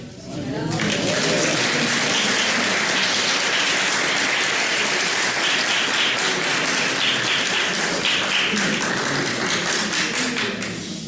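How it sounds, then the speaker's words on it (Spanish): Sustained applause from a congregation at a national church congress, dense steady clapping that fills the room for the full length, loud and continuous with no pause. "Me gustaría un aplauso especial para Ariel."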